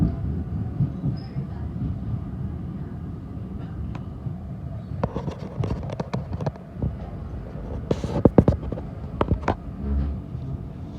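A packed London Overground train runs between Clapham Junction and Stratford, heard from inside as a continuous low rumble with rattles and clanks that grow sharper near the end.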